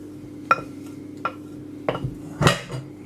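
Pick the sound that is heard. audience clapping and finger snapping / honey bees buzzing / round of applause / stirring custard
stirring custard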